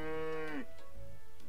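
A cow in the farming video game Story of Seasons gives one clear, drawn-out moo that falls in pitch and ends abruptly, followed by quiet game ambience.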